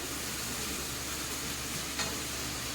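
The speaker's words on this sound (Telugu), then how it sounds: "అల్లం వెల్లుల్లి పేస్ట్ పచ్చి వాసన పోయేంత వరకు ఫ్రై చేసుకోవాలి" Ginger garlic paste frying in hot oil for a mutton curry, a steady close sizzle and hiss with one brief louder spatter midway.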